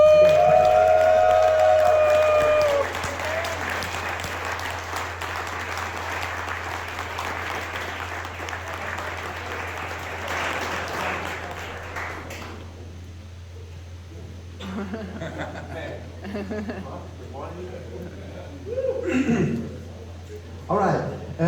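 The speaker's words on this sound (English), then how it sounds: "we have to clap a bit louder now" Audience applause at a pinball tournament final, a broad steady wash of clapping that runs loud for the first several seconds, then thins into scattered claps and crowd noise.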